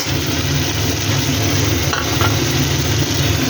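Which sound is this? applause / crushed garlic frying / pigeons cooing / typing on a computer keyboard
crushed garlic frying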